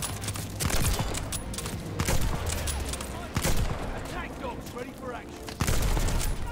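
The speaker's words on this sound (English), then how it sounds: "This shotgun's not overpowered at all." Shotgun blasts in Call of Duty Vanguard, several heavy booming shots spaced a second or so apart over dense background battle noise, with a voice talking over them.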